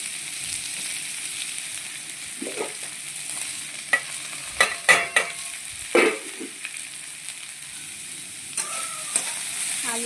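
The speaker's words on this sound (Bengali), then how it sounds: "ভাজার তেলেই আলুটা ভেজে নেবো, বিট আলুটা।" Potato and beetroot pieces fry in oil left over from frying meat, a soft continuous sizzle broken by several sharp scraping clacks of a spatula stirring in the pan.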